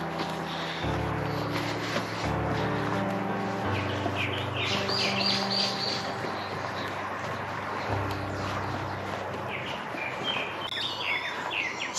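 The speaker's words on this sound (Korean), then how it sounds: "새소리가 반겨주고 있습니다." Birds chirp and trill intermittently over a steady outdoor background with a low rumbling hum at a mountain trailhead on Dobongsan after afternoon rain, calls scattered and moderately distant.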